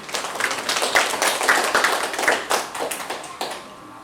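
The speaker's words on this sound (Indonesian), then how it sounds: "tepuk tangan untuk kita semua." Clapping from a gathered crowd at a village stunting-prevention outreach event in Jayanti comes in uneven, sharp bursts, loud and near, tapering off toward the end.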